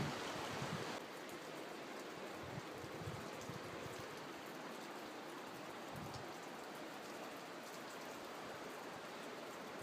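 Constant rushing of river rapids in Banning State Park, a dense, even roar of moving water heard close and alone for the full stretch.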